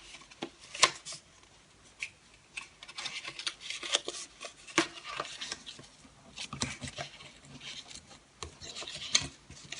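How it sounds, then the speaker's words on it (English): Scored cardstock being folded along its score lines while making a tiny gift box, a run of dry rubbing, creasing and rasping sounds with sharp papery crackles scattered through, close and fairly quiet, no talking. "So fold it on the score lines."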